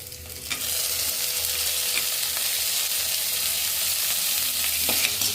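Tomatoes with ginger and pepper frying in a pan for foxtail millet upma, a steady close sizzle with occasional stirring scrapes, no talking.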